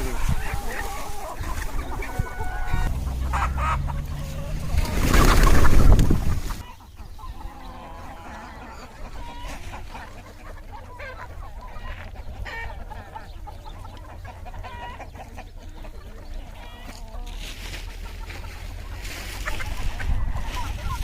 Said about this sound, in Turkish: Köyümüze tavuklarımıza yem veriyoruz.